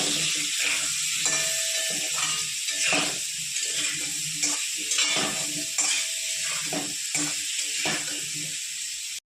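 Potato pieces frying in hot oil with salt and turmeric, a steady dense sizzle with crackle and occasional stirring scrapes, close and continuous.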